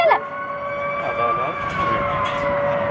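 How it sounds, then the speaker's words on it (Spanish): A fire engine siren wails steadily as the truck passes in the distance, heard alone outdoors at moderate level with no talk over it. "Ah, no, son los bomberos."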